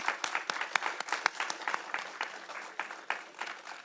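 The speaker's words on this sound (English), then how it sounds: "let's give them all a round of applause" Audience at an artist fellowship award ceremony applauding, a lively close burst of many overlapping claps with distinct sharp hand strikes, sustained at steady strength for a few seconds.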